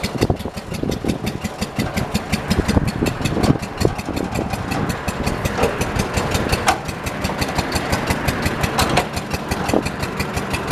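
A 1977 John Deere 212 garden tractor engine, run after sitting four months, runs steadily and close up with a rough, uneven idle and irregular knocking pulses throughout, with no voices.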